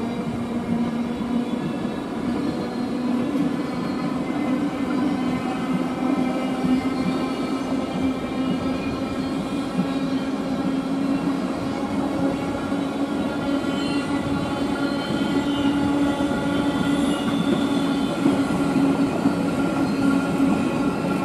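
A freight train rolls steadily through Kufstein station in Austria for over twenty seconds, a loud continuous rumble of wagons with a low droning tone and faint wheel noise, with no voices.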